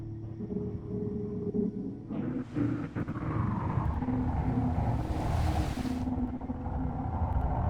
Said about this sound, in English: I'm hoping it's mainly this engine that sounds like this